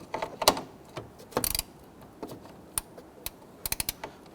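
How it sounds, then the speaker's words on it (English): A ratchet fitted with a 10mm socket clicks in short bursts and single snaps while turning a bolt on a 2006-2010 Hummer H3 fog light set, close and fairly crisp. "I'm going to use my ratchet with my 10mm."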